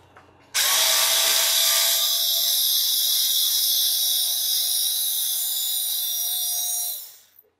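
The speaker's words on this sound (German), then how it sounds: "Wie gesagt, mit einem Elektroschrauber geht es etwas besser." An electric screwdriver backs screws out of the rear axle of an Axial Capra 4WS RC car, a single high-pitched whine that starts abruptly, runs steadily for about six seconds and then winds down.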